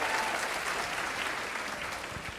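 A comedy club audience claps in a dense, steady burst of applause that fills the whole short stretch, with no talking over it.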